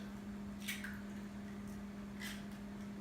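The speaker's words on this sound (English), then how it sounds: "So got my egg, crack it," An egg cracked into sugar in a mixing bowl for pineapple butter sponge bars: two short, quiet crack-and-squish sounds about a second and a half apart over a low steady hum.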